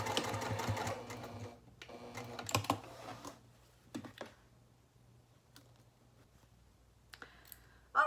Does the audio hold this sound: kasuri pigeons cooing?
no